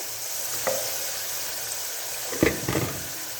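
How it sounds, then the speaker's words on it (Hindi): Marinated chicken in yogurt goes into a hot pan for achar gosht, a soft steady sizzle with a couple of brief clattering stirs and splashes near the end, no voices. "अब इसके अंदर हम डाल देंगे मैरिनेशन किया हुआ चिकन।"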